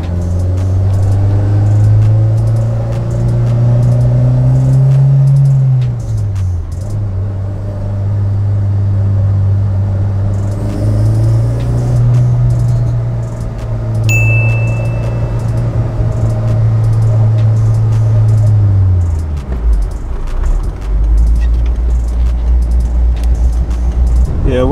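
Car with a repaired throttle body (high idle, rev hang and sticky throttle fixed) on a test drive: steady close engine drone rising and falling through gear changes, with road rumble throughout and no talk.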